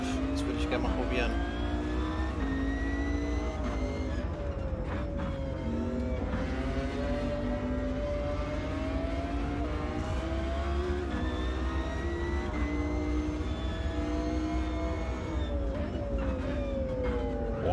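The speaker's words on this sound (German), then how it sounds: "Warum sich der Motorsound so viel anders anhört im Helm, verstehe ich nicht." A race car engine in the sim game Automobilista 2 drones and revs continuously, with gear changes and a rising, falling whine, heard from inside the helmet. A voice talks over it now and then.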